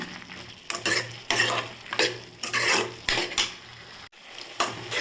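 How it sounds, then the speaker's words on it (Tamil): Onions with salt sautéing in a pan for a siru keerai chutney, with rapid close stirring and scraping strokes over a continuous sizzle, loud and busy with brief pauses. "கொஞ்சம் உப்பு சேர்த்து நல்லா வதக்கிக்கோங்க"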